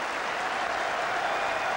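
A capacity cricket crowd at Old Trafford applauds Ian Botham's shot during an England v Australia Test match, a dense, steady wash of clapping throughout.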